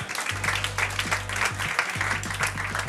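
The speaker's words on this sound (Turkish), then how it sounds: "Babuşları lütfen bir alkışlayalım." A small crowd at a quiz night claps for a team, brief sparse applause with a low steady hum running underneath.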